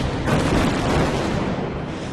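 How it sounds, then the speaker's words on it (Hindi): An explosion in the Nagorno-Karabakh war between Armenia and Azerbaijan: a loud, close boom bursts early, then a rumbling, noisy roar lingers for about two seconds with no speech. "नोगोर्नो काराबाख में धमाके जारी हैं"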